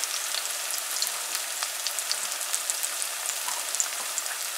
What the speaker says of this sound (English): we usually add our onions first and fry it for a little bit